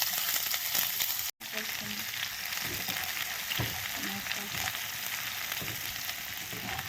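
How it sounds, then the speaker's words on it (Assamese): Chopped onions frying in hot oil with a pinch of five-spice for a boal fish curry: a continuous close sizzle with faint stirring, broken once by a very brief dropout. "পিঁয়াজখিনি ৰঙা হোৱালৈকে ভাজি ল'ম।"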